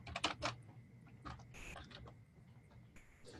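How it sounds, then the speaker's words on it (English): Quiet computer keyboard typing, with a quick cluster of key taps near the start followed by sparse, faint clicks over a low room hum, no speech. "let me type this one out because it's an important one"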